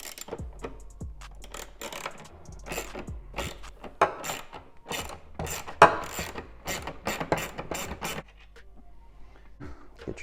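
T20 Torx driver backing out screws on a BMW B58 M340i mass airflow sensor, with close, quiet, irregular clicking and ratcheting ticks in short bursts.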